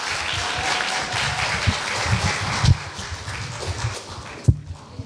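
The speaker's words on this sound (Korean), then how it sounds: "박수 부탁드립니다." Audience applause at a middle school speech contest hosted by a university, a steady crowd clapping for about five seconds with a few sharper claps, then dropping away near the end.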